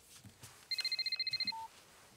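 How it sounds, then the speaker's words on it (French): A mobile phone in a cartoon rings with a rapid burst of about a dozen electronic trills, then a short held tone, against a quiet room. "Nous sommes tous en train de goûter quand le téléphone du papa de Tony sonne."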